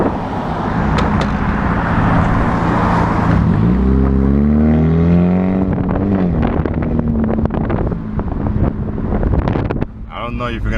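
A Honda Civic with a $31 muffler delete, heard from inside the car, roars loud and steady with a rising rev partway through, while wind buffets the microphone and people talk over it.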